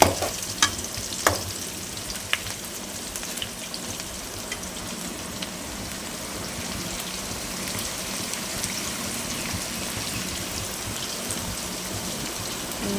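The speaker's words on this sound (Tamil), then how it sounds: "செவந்து வர அளவுக்கு வதக்கணும்" Onions sautéing in a pan until reddish-brown as the base for a fish curry, a dense continuous sizzle with a few sharp stirring clicks early on, steady and close.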